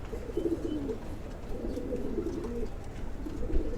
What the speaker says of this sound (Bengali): এগুলো আমাদের উড়ানোর কবুতর